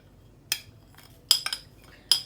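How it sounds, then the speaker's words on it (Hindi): Utensil clinking against a bowl while dry spices are mixed into raw chicken for a pakora marinade, four sharp metallic clinks spaced irregularly over near-silence. "इसे अच्छे तरीके से मिक्स कर लेती हूँ"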